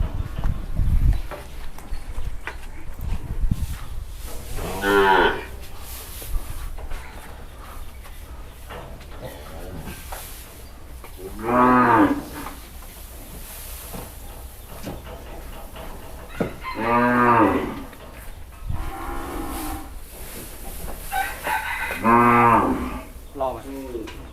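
Small young female cattle bought for a longan orchard in Chiang Mai moo four times at spaced intervals, long throaty calls at moderate distance over a farmyard hum, with chickens clucking faintly in the background.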